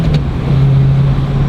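A stock six-speed manual BMW E92 M3 with a Valvetronic V2 exhaust holds a deep, steady engine drone, loud and close, with no break across the short stretch.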